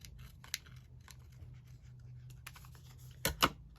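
Scissors cutting paper for a handmade envelope journal: faint snips and rustles, with a couple of sharper cuts near the end, close by and quiet.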